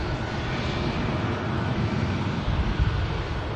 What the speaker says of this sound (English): Let's follow this EasyJet A320